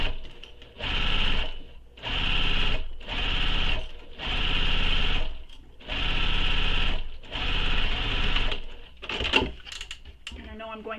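Domestic sewing machine topstitching the upper edge of a tote bag, running in six steady bursts of whirring stitches separated by short pauses, close and loud, with a few clicks and handling noises at the end.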